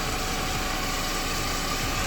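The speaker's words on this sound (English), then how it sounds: "Engine looks to be running strong." The engine of a supercharged Scion FR-S runs steadily with a dense, even rumble and whine, close and loud with no speech.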